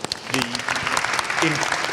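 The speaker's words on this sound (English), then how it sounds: "could everybody give a cheer for Marjorie Pritchard" An audience at a book launch claps and cheers together, with dense applause running throughout and brief voiced whoops rising above it.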